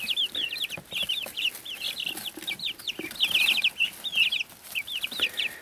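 Young chickens cluck and chirp indoors in quick, high-pitched bursts that run almost continuously, close and fairly loud, with no talking over them.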